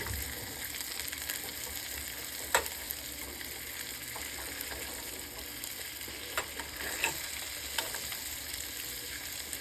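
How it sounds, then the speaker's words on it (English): A pork chop sizzles in a hot pan as butter is spooned over it, a steady crackling fry with occasional sharper pops and spatters, close and continuous, with no talking. "That's a dollop of butter. We're just gonna baste it on."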